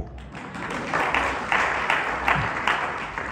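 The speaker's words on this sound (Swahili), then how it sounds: "Patie Bwana vigelegele na makofi zaidi." A church congregation at a Sunday service applauds, with a dense wash of clapping that swells in waves alongside trilling ululation, steady and moderately loud throughout.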